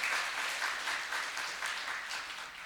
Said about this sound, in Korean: 우리 수고하는 교사 선생님들을 위해서 박수 한번 해주시겠습니까?